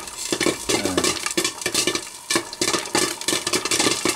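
Popcorn kernels popping in a covered frying pan over high heat, sharp irregular pops and rattles against the lid, dense and close with brief lulls.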